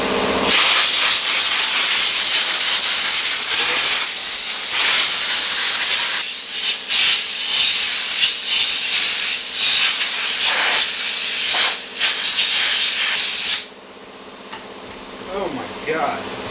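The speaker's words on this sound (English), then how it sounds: "Let's continue with our compressed air." Compressed air blasts dust out of a ductless mini-split indoor unit in a loud, continuous hissing rush with brief dips. It cuts off near the end, leaving quieter room sound.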